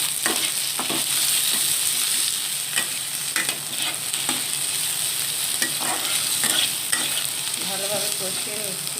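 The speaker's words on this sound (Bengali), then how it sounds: "এটার সঙ্গে আমি একটু কুঁদরিটা ভেজে নিচ্ছি।" Ivy gourd sizzles in hot oil in a pan, loud steady frying with repeated scraping stirs of a spatula and brief clinks near the end.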